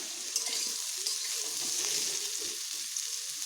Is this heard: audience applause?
no